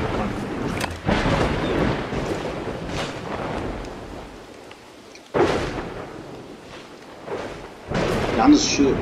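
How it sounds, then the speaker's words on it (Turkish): Rolling thunder from lightning effects in the video game Dawn of Man, several deep rumbling booms arriving at irregular intervals, with a voice talking over parts of it. "Yalnız şu yıldırım efektlerini çok beğeniyorum ya"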